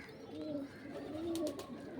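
Pigeons cooing softly in a loft: low, rolling coos repeat steadily against a faint background hum, with a few light clicks and no talk.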